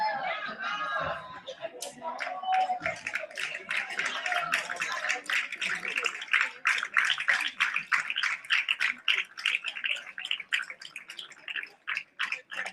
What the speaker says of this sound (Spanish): Un aplauso para ustedes y a la democracia